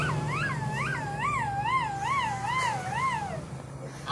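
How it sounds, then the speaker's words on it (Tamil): Ambulance siren in a puppet show, a loud wailing two-tone sweep that cycles steadily up and down about every half second, with a low hum running underneath throughout. "ஆம்புலன்ஸ் வந்துச்சான் எதிரில்."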